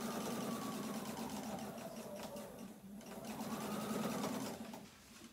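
A sewing machine runs steadily, stitching across the back pocket of a pair of pants, a close continuous mechanical whir with slight speed changes before slowing to a stop.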